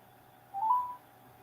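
A single short telephone tone sounds once, clear and alone against quiet background hiss.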